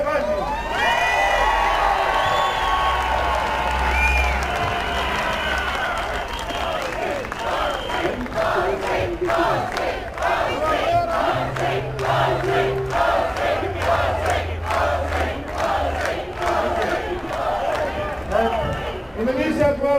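A crowd at an outdoor political rally in New South Wales cheering for a candidate, sustained shouts and whoops with scattered clapping, while a loud amplified voice talks over the noise throughout.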